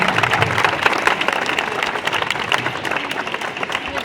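Loud crowd applause welcomes a guest at a public gathering in Lohardaga, with sharp individual claps standing out within a dense, steady round that continues to the end.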